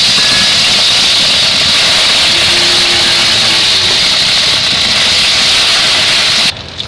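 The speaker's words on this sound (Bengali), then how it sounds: "তেল গরম হয়ে গেছে, এখন আমি এই যে বেটে রাখা রসুনগুলো দিয়ে দেব।" Ground garlic paste hits hot oil in a wok and sizzles with a loud, even hiss that holds steady for several seconds, then cuts off near the end.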